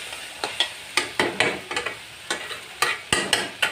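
Jute leaves with onion and garlic fry in oil as a spatula stirs and scrapes them in quick, uneven strokes, each stroke a sharp rustling clatter over a soft sizzle, heard up close without speech.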